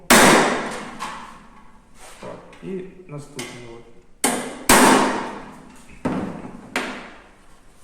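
Several sharp metallic hammer strikes on a center punch against thin sheet metal on an anvil ring out at irregular intervals, loud and close, with someone speaking briefly between blows.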